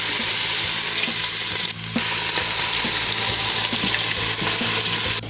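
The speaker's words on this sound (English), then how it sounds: "Heat up the oil until just about smoking and then sear your short ribs in batches." Short ribs searing in near-smoking avocado oil in a Dutch oven, a loud, dense, continuous sizzle with faint clicks of meat being shifted, up close and with no talking.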